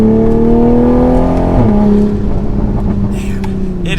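A 2020 Toyota Supra 3.0 with a turbocharged engine pulls hard to high speed, its loud, close engine note climbing steadily before a gear change drops the pitch and it builds again.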